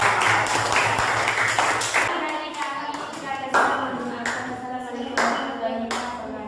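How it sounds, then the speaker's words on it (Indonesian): Seventh-grade students in a junior high social studies class clap for group 3, with a burst of group clapping followed by scattered individual claps and a teacher's voice talking over them. "tepuk tangan dulu kalau kelompok 3"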